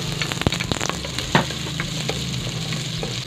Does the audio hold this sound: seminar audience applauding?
no